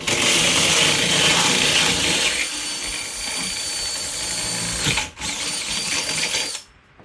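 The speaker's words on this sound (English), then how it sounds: "First step, you're going to get your 2 1/8-inch hole saw," Power drill driving a 2 1/8-inch hole saw through a door, a steady loud grinding whine that eases partway through, dips briefly, then cuts off near the end.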